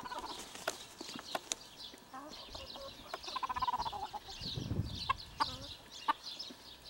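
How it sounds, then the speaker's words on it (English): Chickens cluck and squawk around horses at a riding stable in Spain, scattered short calls and a few louder bursts over a quiet outdoor background, with faint thumps and rustling. "There's a chicken stealing horse's grain."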